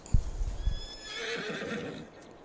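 A horse in Farming Simulator 22 gives a clear whinny lasting over a second, preceded by a few hoof clops, close and alone with no talk.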